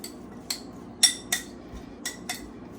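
A spoon mixes minced garlic through cauliflower rice for Cajun cauliflower rice, giving six short scraping clinks against the dish at an uneven pace, close and fairly quiet with no talking.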